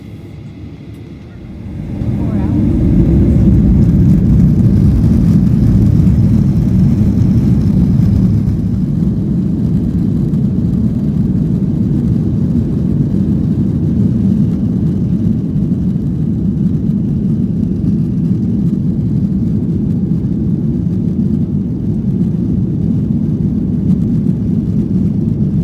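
Delta Boeing 737-900 airliner taxiing at Atlanta Hartsfield airport, heard from inside the cabin as a steady, loud low engine rumble that swells after a couple of seconds and holds evenly throughout.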